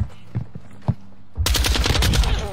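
Lachmann 762 rifle in Modern Warfare 2 opens up in a loud, rapid automatic burst that runs for over a second. A few quieter thumps and muffled sounds come before it.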